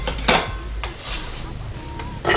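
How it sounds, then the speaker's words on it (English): Seared toast comes off a NuWave Primo or Jubilee smokeless indoor grill with a few metallic clinks and scrapes of utensils against the grill plate, close and moderately loud, over a low background hum. "So I'm going to get my seared toast off."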